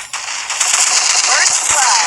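Rapid automatic gunfire in the battle royale game Free Fire rattles out in loud, dense bursts that run almost continuously, with no voices heard.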